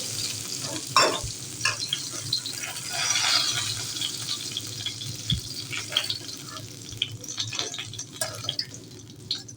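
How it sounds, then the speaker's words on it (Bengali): Pieces of tuna frying in a pan, a continuous close sizzle and spatter with occasional stirring clicks and bursts of crackling, and no one speaking. "এবার আমি বাকি মাছগুলো এভাবেই ভেজে নেব"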